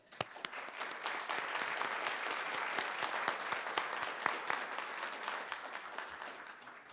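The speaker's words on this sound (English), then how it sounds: "Please join me in a warm round of applause" A City Club Friday Forum audience gives a warm round of applause, many hands clapping in a sustained, even roar with a few sharper close claps standing out, heard at moderate distance with no talk over it.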